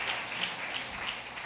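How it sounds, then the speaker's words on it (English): A congregation at a Sunday church service in Lewiston claps together, a dense, steady patter of many hands that sounds faint and somewhat distant, with no voices over it. "Let's clap for God."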